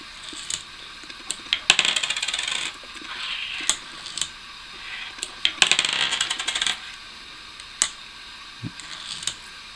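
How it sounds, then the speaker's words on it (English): Copper pennies clatter down through a homemade coin sorting machine on a tilted table, coming in quick bursts of metallic clinks and rattles with pauses between them, close and crisp. "I've got this whole table on this thing tilted so the coins lean into the sensor"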